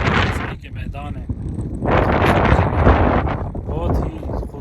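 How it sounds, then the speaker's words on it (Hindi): Strong wind buffeting the microphone on the open high plains of Deosai National Park, cold and gusty, with loud rushing surges and roaring low rumble, and someone talking over it in parts. "यहाँ पे हवा चल रही है दोसाई में"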